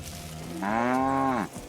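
A cow in the video game Kingdom Come Deliverance 2 lets out one long, loud, drawn-out moo close by. It rises from a low start and cuts off cleanly, with faint ambient game sound before and after.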